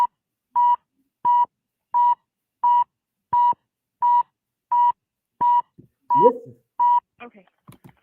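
Censor beeps cover redacted portions of a recorded 911 emergency call: about ten evenly spaced, loud electronic tones in a steady rhythm, with a brief bit of talk squeezed between them near the end.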